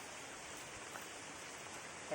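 Steady rain pours down outdoors, a dense, even hiss that stays constant throughout with no breaks, close and moderately loud, ending with a brief louder bump.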